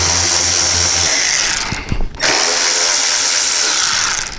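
A ratchet turns the hidden headlight bezel bolts on a Harley Road Glide fairing, close and loud, with rapid clicking runs broken by a short pause before the ratcheting resumes.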